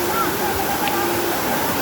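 Sprite Falls waterfall, a steady broad rush of falling water close by and fairly loud, with a person talking over it.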